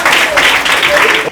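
A brief burst of audience clapping on a French TV program, loud and dense for just over a second.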